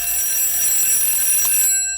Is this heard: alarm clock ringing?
yes